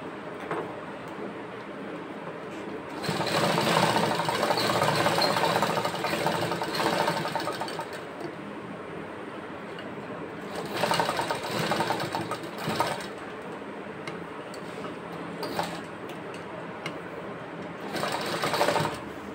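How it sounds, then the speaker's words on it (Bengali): A sewing machine stitches along the edge of a collar in several runs of fast, steady mechanical whirring, loud and close, separated by quieter pauses with faint handling sounds. "একদম এখানে ধার বরাবর সেলাই করব"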